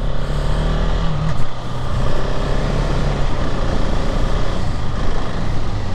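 KTM 690 Enduro R motorcycle fitted with a quick shifter, its engine roaring loudly as it accelerates, with brief pitch drops at gear changes, heard close and continuous with no talking.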